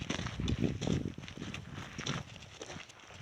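Hooves of a saddled horse being ridden clip-clop in quick, uneven beats, fairly close and moderately quiet, fading somewhat toward the end.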